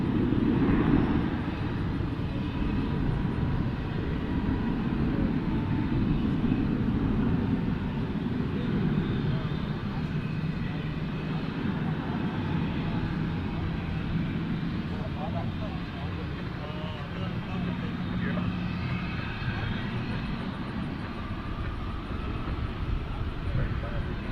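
An Airbus A321 taking off at Dallas/Fort Worth International Airport, a steady low jet-engine roar that holds for the whole stretch at moderate distance, with no talking over it.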